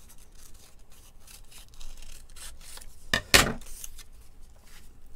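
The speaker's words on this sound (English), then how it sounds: "I need to trim that black off." Paper edges of an art journal page being trimmed, giving soft scratchy cuts and rubbing sounds with one sharper, louder snip-like burst partway through, close up and without talk.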